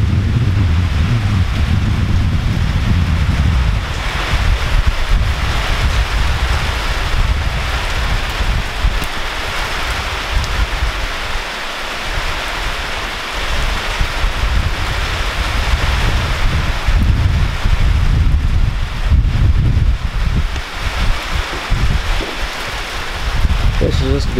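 Steady broadband wind roars outdoors at the start of a winter storm on a 40-degree day with rain falling, a continuous loud rush with low gusty rumble and no clear breaks.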